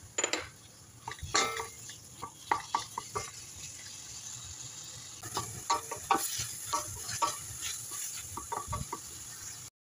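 Meat dropped into a pan of sautéed onion and garlic, with steady sizzling and sharp clatters of a utensil stirring against the pan, fairly close, with no voices.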